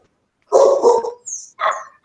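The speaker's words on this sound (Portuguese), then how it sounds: "Só para o cachorro parar de latir." A dog lets out a few sharp barks and yips at close range, three quick bursts over about two seconds against an otherwise quiet background.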